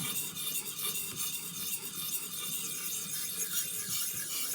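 A Green River mountain man knife worked in small circles on a sharpening stone set on a rubber base, giving a steady, continuous close-up scraping rasp that carries on without a break.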